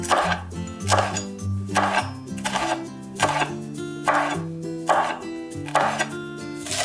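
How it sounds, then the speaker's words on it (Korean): Knife julienning seeded, halved red chili into thin strips on a cutting board for a Korean salad with gochujang dressing, heard as a series of quick chopping taps in bursts over background music. "씨 부분은 제거하고 반 잘라준 후 얇게 채쳐주세요."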